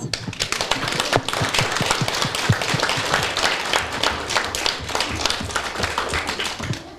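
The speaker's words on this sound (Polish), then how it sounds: "jeszcze raz wielkie brawa dla Was" Children in a kindergarten audience applaud at a national holiday celebration, a dense, steady burst of many small hands clapping for the full stretch with no talking.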